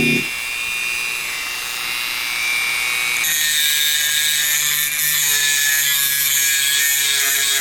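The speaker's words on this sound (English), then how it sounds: "a rapid burr to thin out the inside so the tires didn't drag." A rotary burr grinds away the inside of a diecast Gran Torino car body, a steady high whine with a brighter, harsher tone in the second half, close and continuous with no talking.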